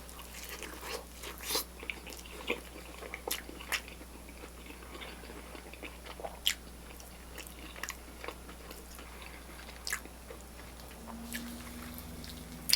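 Teeth bite and chew into crunchy buttermilk fried chicken skin at a brunch spot, giving sharp, close crunches at irregular intervals over a low background hum, with no talking.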